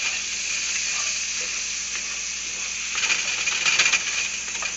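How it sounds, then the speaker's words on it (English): Eggs frying in a pan give a steady close sizzle, with scraping and light clinks from a spatula moving them around growing busier toward the end. "I'm going to grab a spatula. And just move those around in the pan."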